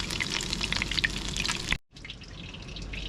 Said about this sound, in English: while that's frying up